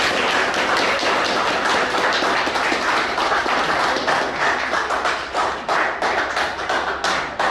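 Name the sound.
applause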